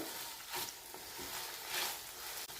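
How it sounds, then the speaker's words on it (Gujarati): Ginger garlic paste sizzles in hot oil in a pan of bhindi masala, a steady, soft hiss that rises and falls slightly with a stir, close by and with no talk over it. "તેલની અંદર આદુ અને લસણની પેસ્ટ એકદમ સરસ સંતરાઈ જાય"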